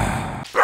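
A dog in the Stardew Valley farming game gives a single short bark near the end, after a steady stretch of game background sound.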